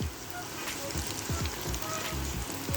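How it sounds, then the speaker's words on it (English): Popcorn chicken fries in hot oil toward golden brown, giving a constant dense sizzle with crackling pops throughout and no talking. "you'll fry these until golden brown"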